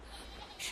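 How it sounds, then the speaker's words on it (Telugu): A sheep bleats after being struck by a car, giving one short, fairly faint cry at the end of a brief stretch of low road and engine rumble. "అమ్మయ్యా గొర్రెల్ని గుద్దా."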